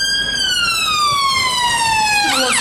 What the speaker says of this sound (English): You see the ambulance right there?